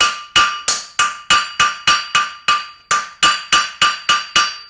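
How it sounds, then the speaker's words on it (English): A hammer strikes a blacksmith's steel stamp held flat on an anvil in a fast, even series of about fourteen sharp metallic blows, each ringing briefly and fading before the next. "you've got to trap it with your hammer there, so your hammer's got to be covering the entire surface of the stamp"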